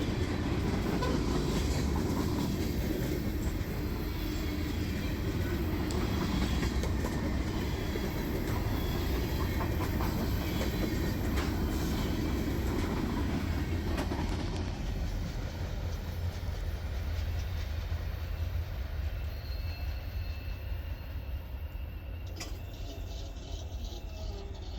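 Freight train hauling lumber and paper cars rolls steadily past, a continuous loud rumble with rail clatter and wheel noise throughout, fading slightly toward the end.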